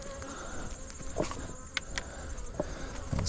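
Bees drone and buzz around an open beehive on a farm during a frame inspection, a steady close hum with scattered louder passes near the microphone and a few faint knocks, with no one speaking.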